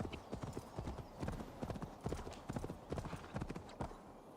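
Hooves of a winged horse in Assassin's Creed Valhalla clop in a steady galloping rhythm, dense and continuous throughout, up front in the game mix with faint ambient sound beneath.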